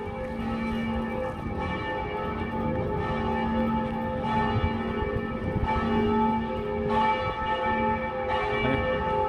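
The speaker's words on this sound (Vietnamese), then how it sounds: "Đây, chuông trên đây." A church bell rings at Đông Quang parish church, its steady, resonant strikes repeating every second or so with long sustained overtones, fairly close and alone.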